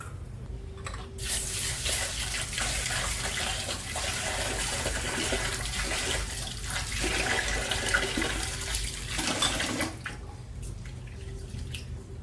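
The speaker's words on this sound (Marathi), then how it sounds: "आता मी तांदूळ धुवून घेते आणि त्यात घालते" Rice being rinsed under running water for khichdi, a steady broadband splashing and trickling close by, lasting about ten seconds before easing off, with no talk.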